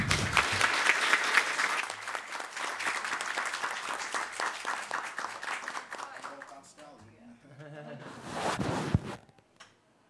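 Applause breaks out at a formal commemorative session, a dense burst of clapping that fades, then a short second swell before stopping; a voice briefly speaks in the lull.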